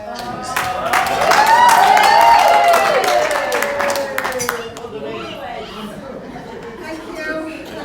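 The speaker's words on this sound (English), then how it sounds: "give Ainsley a round of applause" Wedding guests break into a round of applause after a speech to the newlyweds, a dense burst of clapping mixed with chatter that swells early and then thins out, with voices continuing beneath.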